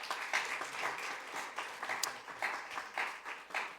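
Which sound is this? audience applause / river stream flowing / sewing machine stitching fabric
audience applause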